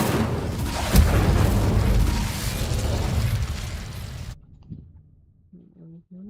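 The Incendio fire spell is cast in Hogwarts Legacy: a sudden pop opens a dense, roaring burst of flame that rumbles for several seconds, then cuts off to near silence.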